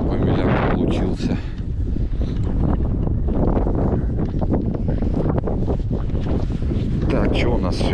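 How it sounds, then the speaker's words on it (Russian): Cold wind whips across a frozen sandy beach at Yeysk, roaring and buffeting the microphone in loud, rumbling gusts that rise and fall for several seconds. "Холодно, ветер."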